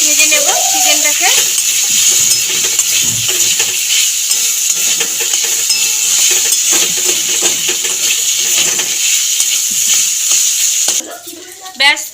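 Chicken with turmeric and chili powder fries in a pan while a spatula stirs it. The loud sizzle carries repeated metal scrapes and clinks, then drops quieter near the end.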